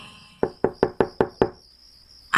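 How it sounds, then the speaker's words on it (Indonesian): A bedroom door in a boarding house at night takes six steady knuckle knocks in a close, even rhythm, crisp and fairly loud over a faint high insect-like hiss, with no voices. "ada yang mengetuk pintu kamarku"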